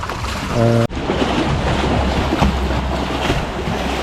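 Loud waves wash against the shore beside a highway in Switzerland, with a steady rush of water and strong wind buffeting the microphone, preceded by a brief tonal beep.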